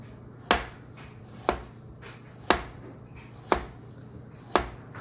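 A sharp knife chops a radish on a cutting board, five crisp, evenly spaced cuts about one second apart, close and clear, with no talking.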